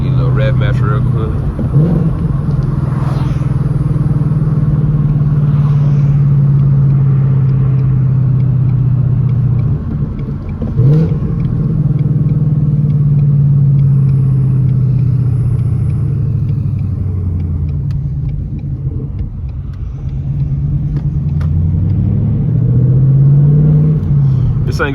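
Car engine idling and revving through its exhaust with a manual clutch, a steady low rumble swelling in a few blips around the middle and end, close and loud throughout.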